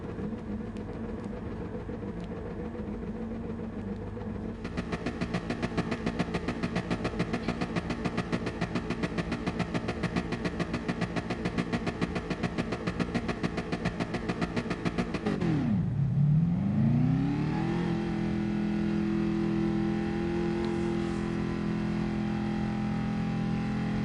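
A racing car engine in Gran Turismo Sport idles, then revs hard and holds a high buzzing note, dips sharply and climbs back up to a steady drone, loud and close with no talking.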